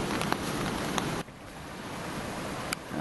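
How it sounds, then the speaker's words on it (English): Strong wind roaring outside a hammock and tarp camp in the Wattagans bush, a loud broad rush that drops briefly then keeps blowing steadily, with faint flapping ticks. "A bit windy outside."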